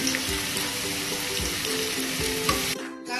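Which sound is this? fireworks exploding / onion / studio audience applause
onion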